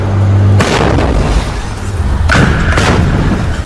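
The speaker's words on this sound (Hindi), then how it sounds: "उसके रॉकेट दागते ही एक और कान फाड़ देने वाला धमाका हुआ।" Two loud, heavy rocket explosions in Khan Younis, Gaza, a couple of seconds apart, each a sharp booming blast that rolls off into a rumbling tail.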